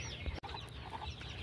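Large desi hens cluck softly on a poultry farm, low murmuring fowl sounds amid a busy, faint background across a brief moment.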